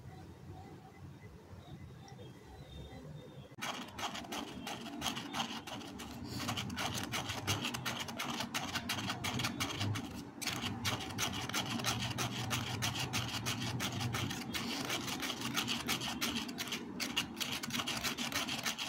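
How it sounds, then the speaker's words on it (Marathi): Cocoa powder shaken through a kitchen sieve for condensed milk chocolate, a steady soft rasping and rubbing that runs for nearly the whole stretch at close range with no talk. "ही पावडर आपण चाळणीमध्ये चाळून घेऊया."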